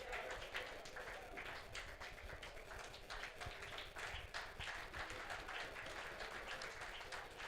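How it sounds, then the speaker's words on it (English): Audience applause fills a hall at a human rights day event, a steady dense wash of many hands clapping at moderate volume throughout, with no clear talking over it. "Please come here and we'll give you a round of applause"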